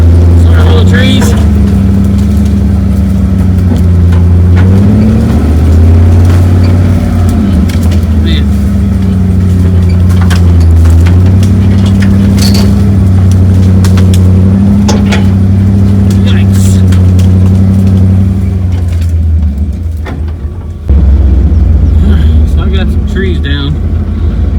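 A vehicle driving through woods over small trees, with a loud, steady engine drone and scattered snaps, thumps and crackles of brush, under frequent talking; the engine briefly dips near the end before resuming.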